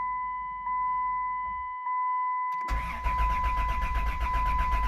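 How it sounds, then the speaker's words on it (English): A Chrysler Town & Country minivan engine with 326K miles, freshly serviced with a new timing chain and water pump, cranks briefly against a steady electronic chime, then catches and settles into a loud, even idle close by. "You can see how it cranks better now that the lifters are pumped up."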